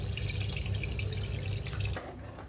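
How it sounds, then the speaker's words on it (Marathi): Tamarind water pours into a boi fish curry in a steady liquid splash that stops abruptly near the end, close and fairly loud. "ह्याच्यातली चिंच मी बाजूला काढते आणि हे पाणी घालते कालवणामध्ये"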